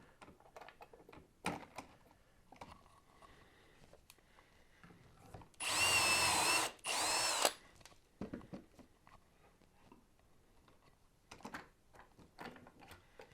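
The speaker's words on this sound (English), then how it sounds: "Now that all my holes are drilled" A power drill bores dowel holes into the edge of a wooden board in two loud, close whining bursts of about a second each, separated by a short pause, with quieter knocks and handling of wood around them.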